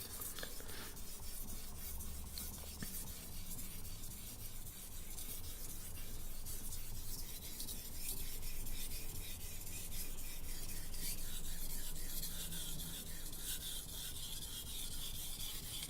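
A chef knife is sharpened on a whetstone, its blade rubbing in a steady, continuous rasping scrape close by for the whole stretch, with no talk.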